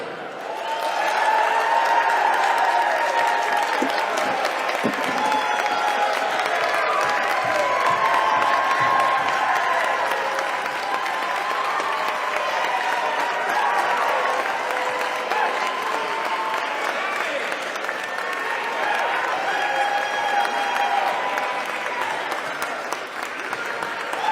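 An audience applauds and cheers Michigan Governor Gretchen Whitmer and Lieutenant Governor Garland Gilchrist as they take the stage, a dense, loud wall of clapping and whoops that holds steady for more than twenty seconds.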